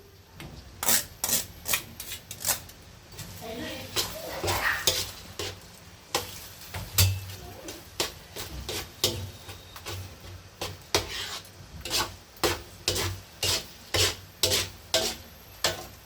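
Soft cheese rubbed across a thin, fine kitchen grater in a home kitchen, a steady series of short scraping strokes, close and fairly loud, repeating in an even rhythm with no talk.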